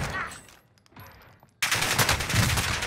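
Gunfire erupts in the Call of Duty Warzone video game, a sudden loud burst of rapid shots after a quieter stretch, continuing dense and close to the end.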